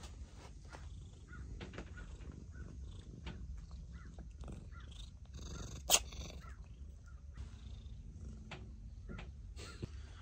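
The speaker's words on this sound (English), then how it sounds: "let's say hello to Danger Cat first" A cat purrs steadily up close, a low continuous rumble with a brief sharp sound partway through.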